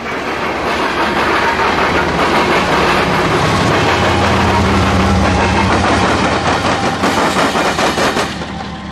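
A long, relatively light freight train passes in Marion, Ohio, with one lead locomotive, three mid-train units and one at the rear. It makes a loud continuous roar with rhythmic clickety-clack of wheels that fades near the end.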